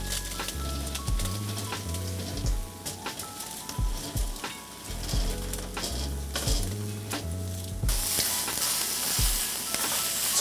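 Cooked calamari and green onions stir-fry in a wok for Kung Pao, a loud sizzle under repeated clanks and scrapes of the spatula tossing the pieces.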